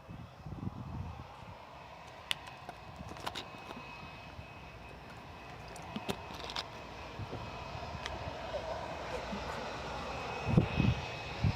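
Jetstar airliner approaching at Gold Coast Airport, a steady broadband jet engine roar building gradually over the whole span, moderately distant and with no talk.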